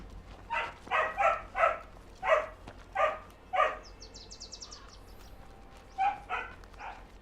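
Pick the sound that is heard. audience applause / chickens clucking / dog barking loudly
dog barking loudly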